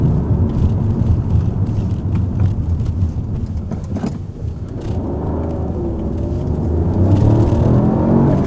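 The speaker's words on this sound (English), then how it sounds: "When you put your foot down, it's all there." A Peugeot 308 GT Line's turbocharged engine pulls under acceleration, a loud, steady drone heard from nearby that dips briefly midway, then swells louder toward the end.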